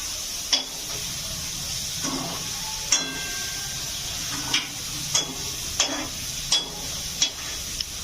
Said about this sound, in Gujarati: ચમચાથી હલાવો